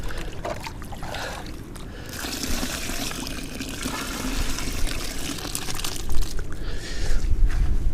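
Water runs steadily into a bucket over seed bait being soaked for winter carp fishing, a continuous close splashing and trickling that swells louder toward the end.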